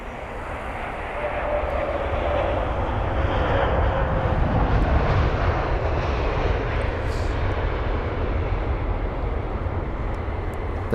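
A Boeing 787-10 Dreamliner jet arriving at London Heathrow after a flight from Dubai gives a steady, loud broadband engine roar that builds in the first seconds and then holds for the rest of the stretch.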